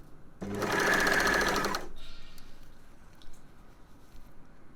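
An overlocker runs in one loud, fast burst of about a second and a half while serging sports bra fabric, then stops, leaving quiet handling rustles.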